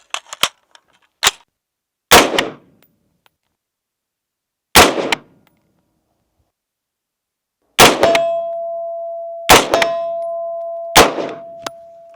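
Five sharp, loud gunshots from an HK416D piston-driven AR-15 rifle at an outdoor range, spaced a second or more apart, each with a quick decay and a metallic ring from steel targets after the later shots.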